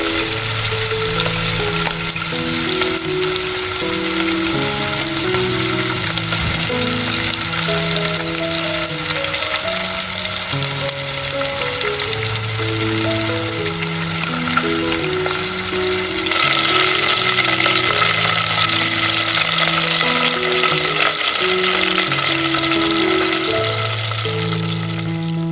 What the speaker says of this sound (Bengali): অয়েল গরম হয়ে গেছে, এই পর্যায়ে মাছগুলো ভেজে নেব।